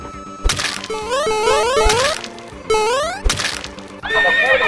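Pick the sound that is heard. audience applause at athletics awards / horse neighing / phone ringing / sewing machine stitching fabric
horse neighing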